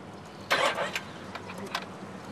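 A car engine starting up: a sudden loud cranking burst catches and settles into a rougher running sound, with scattered voices speaking around it.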